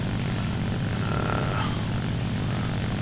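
A fighter plane's propeller engine drones steadily in the War Thunder video game, a loud continuous roar with a brief rising whine as the aircraft passes, no talking.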